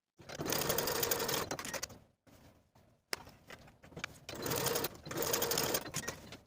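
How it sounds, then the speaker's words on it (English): Sewing machine stitching a 5/8 inch seam to attach a facing to the bottom edge of a vintage 1940s-style blouse; steady fast whirring runs in two long bursts with a brief quiet pause between. "I'm going to sew the facing to that bottom edge with a 5/8 inch seam allowance on both sides."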